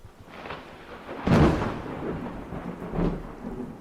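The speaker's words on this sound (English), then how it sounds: "Another storm, huh, Lord?" Thunder rumbles through a steady rainstorm, with a loud crack and roll near the middle and a second swell of thunder toward the end, rain hissing underneath throughout.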